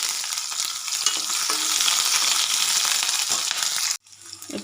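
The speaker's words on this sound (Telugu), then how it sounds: "ఇవి చిటపట్లాడగానే మామూలుగా ఉల్లిపాయ వేసుకొని కలుపుకోవాలి." Chopped onion frying in hot oil with cumin and mustard seeds, a loud, dense, continuous sizzle up close while it is stirred, then a sudden drop to a quieter crackle near the end.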